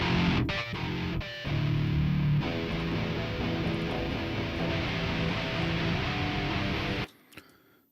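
Playback of a heavy rock mix, thick distorted guitars and pounding drums in a dense wall of sound that stops abruptly near the end, leaving a brief faint tail.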